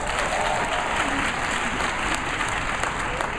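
Keynote audience applause at an internet summit, a dense, steady crowd clapping that fills the room evenly for several seconds without a break.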